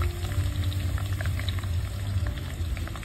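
Carrots fry in oil, giving a continuous close bubbling sizzle with a low rumbling undertone and light crackle, no voices over it.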